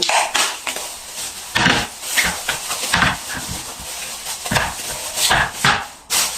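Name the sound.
chopping vegetables: coriander, tomato, ginger, onion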